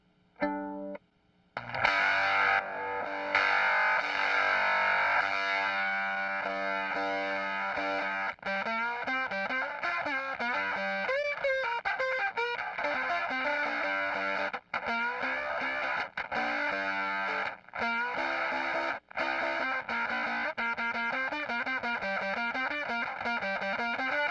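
Distorted electric guitar through a fuzz pedal with tone boost plays chords and riffs for a long stretch, thick and saturated, with brief pauses between phrases.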